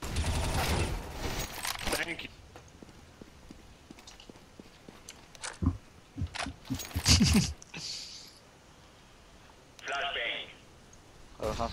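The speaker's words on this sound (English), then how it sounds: "Flashbang." Flashbang and gunfire in a competitive tactical shooter match, sharp bursts of shots and bangs scattered irregularly among sounds of play, with players talking over them throughout.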